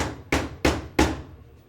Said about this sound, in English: What I like to do is take a hammer and tap on the end of the piston rod.